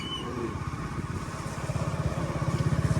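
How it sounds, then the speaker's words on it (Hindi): A car engine rumbles steadily from inside while driving in rain, a low pulsing drone that grows slightly louder and more rhythmic toward the end. "ड्राइव कर रहे हैं स्कलैन भाई"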